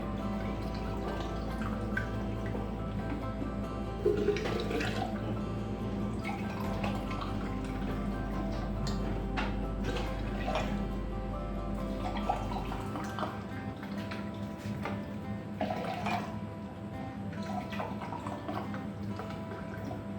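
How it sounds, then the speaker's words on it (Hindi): Water is poured steadily into a raw mango juice mixture for aam panna, a continuous close liquid splashing and dripping that lasts about twenty seconds with no talking. "हमने 4 गिलास पानी डाला है इसमें,"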